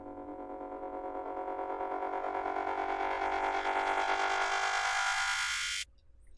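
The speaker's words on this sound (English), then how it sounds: "we have this transitional sound here. It sounds like this. Kind of like a riser" A synth riser swells steadily in pitch and brightness for several seconds, then cuts off abruptly, leaving a low hum.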